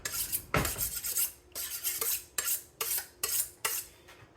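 A sharp knife slices through dried biltong beef in a quick series of crisp, rasping strokes, each cut a short scraping burst on a board, close and clear with no talking.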